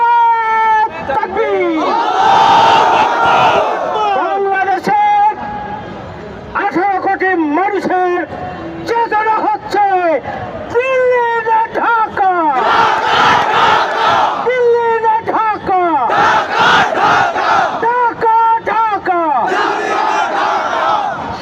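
A large crowd at a political rally in Dhaka chants slogans in loud, rhythmic call-and-response waves that continue for the whole stretch, with a leader's amplified voice leading the chants.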